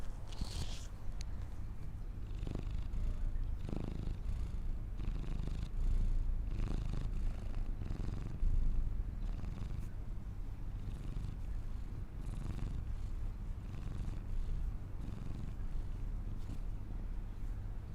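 A cat purrs steadily at close range indoors, a soft low rumbling rhythm that runs continuously under quiet room noise, with faint background sounds.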